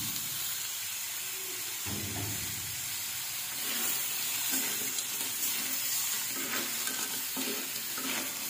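Clams in their shells sizzle and hiss in a hot pan while being stirred, with scraping and occasional clattering shell sounds over a steady frying noise and no talking.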